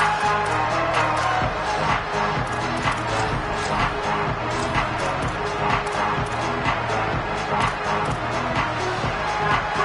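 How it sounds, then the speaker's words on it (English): A packed stadium crowd roars at a Texas Tech college football game on third down, a loud and sustained wall of cheering and noise that holds steady for the whole stretch. "Guns up, and so is the noise. The crowd electric, trying to help Tech on this 3rd down."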